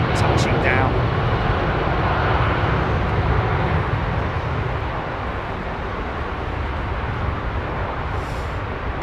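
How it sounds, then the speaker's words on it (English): An Egypt Air Boeing 777-300 airliner touches down at London Heathrow, a broad, loud engine roar that slowly eases off over several seconds. "Egypt Airs 777-300 touching down"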